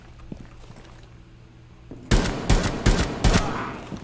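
Gunfire from Buck's weapon in Rainbow Six Siege on PC: after a quiet stretch, four loud close bursts of rapid shots crack out in a row, alone with no talk.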